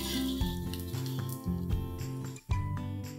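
Idli pieces frying in a pan, a steady close sizzle with a few clinks and stirring shifts, one brief dip near the end, no talk.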